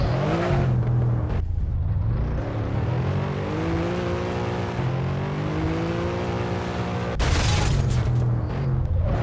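A fast, hard-to-handle Forza-ported car in GMod, its engine revving loudly and steadily with rising and falling gear tones, close and continuous, with a brief burst of higher roar near the end.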